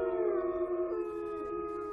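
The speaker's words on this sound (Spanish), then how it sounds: "El aullido del lobo." A wolf howls in a long, sustained, wavering cry that slowly glides downward in pitch, with overlapping tones suggesting more than one voice, clear and unaccompanied by speech.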